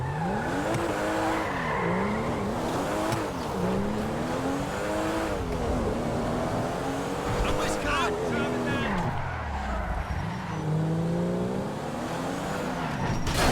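Car in Grand Theft Auto driving through Los Santos streets, engine revving with rising and falling pitch as gears shift, tires squealing and skidding through several sharp turns, loud and continuous throughout.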